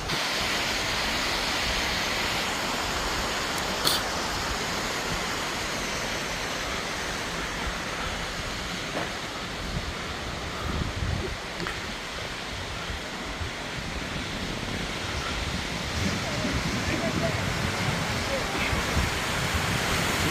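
Steady broadband rush of Dinkey Creek's waterfall, loud and continuous throughout with no break, and faint voices now and then beneath the roar.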